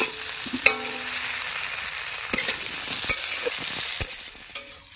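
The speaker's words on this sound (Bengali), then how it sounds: "এখন এটা দিয়ে কষাবো।" Boroli river fish frying in a pan with turmeric, chili and cumin powder, a steady sizzle broken by several sharp scraping strokes of a spatula, close and loud with no talking.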